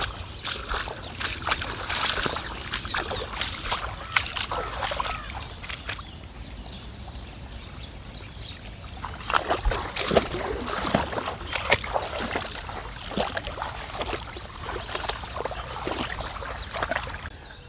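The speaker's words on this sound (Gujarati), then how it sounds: "જોવા ચાલુ થઈ ગયું છે પાણી આપણા ખેતરની અંદર." Irrigation water runs into an okra field with a steady broadband flow and splashing, loud at first, easing in the middle, then picking up again with sharper splashy bursts, heard outdoors with no voices.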